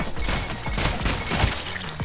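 Rapid homing-bullet gunfire in the ROUNDS video game, a dense clattering barrage of loud overlapping shots and impacts packed close together with no pause.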